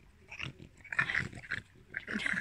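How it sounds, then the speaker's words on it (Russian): A small dog, one of a French bulldog, spitz and dachshund playing together outdoors, growling and snarling in short rough bursts, close and moderately loud. "Рычишь."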